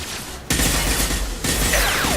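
Suppressing gunfire in the video game Mass Effect 2 comes as loud, dense, rapid bursts that fill the clip after a brief quieter lull at the start, with one short break midway.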